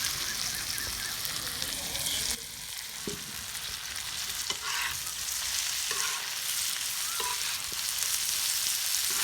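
Tomatoes frying with liver on a hot tawa in a village kitchen, a steady loud sizzle with occasional scraping stirs and clinks across several seconds, no talking.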